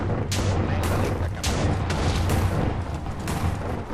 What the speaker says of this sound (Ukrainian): Все вибухає.